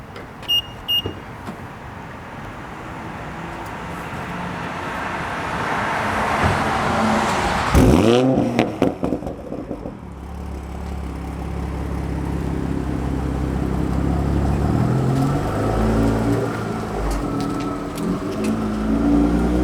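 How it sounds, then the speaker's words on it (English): A car engine starts with a sharp burst, then settles into a low, steady rumble as it pulls away, fairly close and loud with no talking over it. "I'm gonna just start the car from the back and then drive off"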